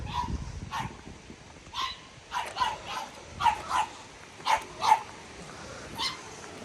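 A French Bulldog barks repeatedly in short bursts at moderate distance, with a few yips mixed in over a low rumbling background.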